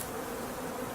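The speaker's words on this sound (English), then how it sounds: "Their wing beats fan the hive to keep it cool and ventilated." Honey bees buzz at a hive in high summer, a dense steady drone of many wingbeats close by, unbroken and fairly quiet, with no voices.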